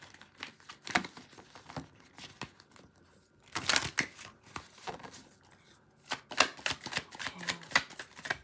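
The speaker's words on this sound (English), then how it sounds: "Let's give it another shuffle." A deck of tarot cards is shuffled by hand at close range, giving bursts of crisp riffling and soft slapping that pause briefly between rounds, with no talking.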